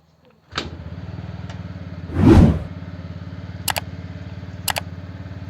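A TVS Ntorq scooter engine, freshly kick-started after a starting problem, idles steadily up close with a low, even putter, one brief rev swell in the middle and a couple of sharp clicks later on.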